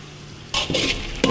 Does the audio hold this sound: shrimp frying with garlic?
yes